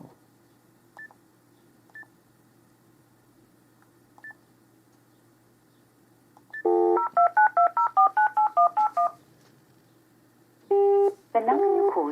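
A few isolated beeps, then a rapid run of telephone dialing tones in quick succession while calling a UK doctor's surgery, followed by a longer tone and a warbling ring signal.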